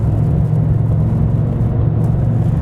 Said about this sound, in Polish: Czasami sobie, zobaczcie, dodam sobie gazu